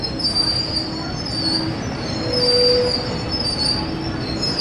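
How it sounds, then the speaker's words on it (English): A freight train brakes to a stop, its wheels squealing in long high sustained tones over a loud rumbling rail roar, close by, with no talk. "It takes forever to stop the train"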